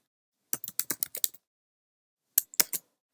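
Typing on a computer keyboard: a quick run of about eight crisp key clicks, a pause, then three more taps, close and clear in an otherwise silent room.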